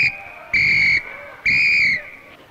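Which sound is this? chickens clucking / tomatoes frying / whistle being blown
whistle being blown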